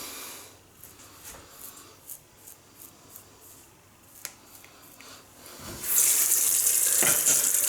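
Bathroom tap gushing water into a sink for rinsing after a shave with a Schick Krono double-edge razor, turned on abruptly after a few small clicks and handling sounds, then a loud steady hiss.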